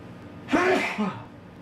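A single close, sharp sneeze bursting out after a quick intake of breath, followed by a brief softer vocal sound.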